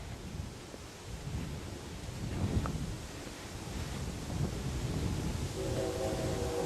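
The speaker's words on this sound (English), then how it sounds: "Train in the distance." A distant train rumbles through woods near a stream and clearing, a low broad roar that slowly swells, with a faint horn tone near the end, heard without talk.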